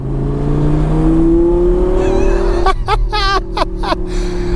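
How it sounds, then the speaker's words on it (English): An Audi R8 engine with an aftermarket exhaust idles with a deep burble, then revs sharply several times in quick succession, loud and close, with a raspy exhaust note. "I'm gonna try to listen to this engine for the first time. It has a nice gargle."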